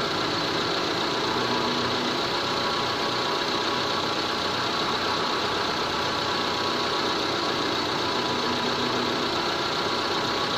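A Proton Waja MMC car engine idles steadily after a throttle position sensor replacement, a continuous, even mid-range hum with a faint knocking texture running throughout, close and alone without talk.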